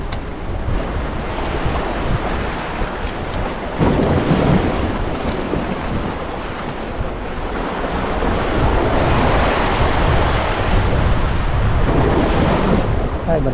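Strong wind roaring steadily over open sea off Palawan during popping for trevally, with waves and surf washing throughout and gusts buffeting the microphone.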